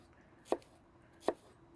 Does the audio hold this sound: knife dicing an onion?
yes